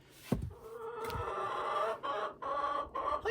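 Hens in a run cluck and chatter steadily up close, a busy layered flock sound with a couple of sharp thumps near the start, no voices.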